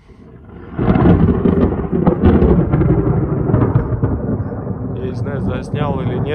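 Heavy thunder during a thunderstorm with light rain falling rolls in loud and close after a quiet first second, then rumbles on without a break to the end.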